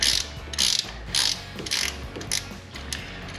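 A hand ratchet clicks in repeated short bursts while turning a long bolt during a Coyote engine swap into a restomod Fox Body Mustang, each sweep a quick metallic zip followed by a pause.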